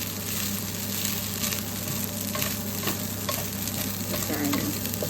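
Cooked rice for Filipino sinangag is stir-fried in a hot pan, giving a steady close sizzle with scraping and stirring textures throughout and no talk.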